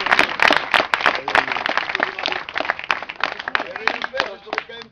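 Clapping from the crowd at an outdoor awards ceremony, applauding Hugo, a team member who was injured. The spread of hand claps is loud and steady throughout, with voices mixed in.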